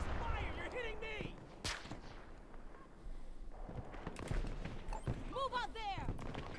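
Sharp bursts of gunfire and explosive blasts from a Battlefield combat game, scattered through busy battle noise with shouted voices talking over the action.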